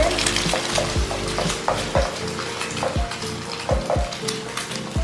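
Eggs fry in a pan for Thai shrimp basil fried rice, giving a continuous crackling sizzle. Sharp clinks and scrapes of a utensil against the pan recur every second or so.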